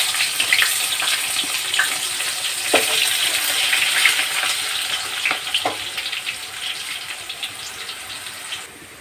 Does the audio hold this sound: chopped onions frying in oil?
yes